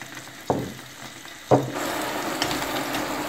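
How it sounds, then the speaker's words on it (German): Hokkaido pumpkin pieces dropped into a hot pot begin to sizzle, two soft thuds followed by a steady close frying hiss with faint stirring. "können wir auch schon den Hokkaido-Kürbis in den Topf geben. Der soll nämlich ein bisschen anbrutzeln."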